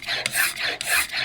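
Hand plane blade honed across abrasive grits, producing steady rasping strokes in a back-and-forth rhythm, about three close, loud passes with brief pauses between them, no talking.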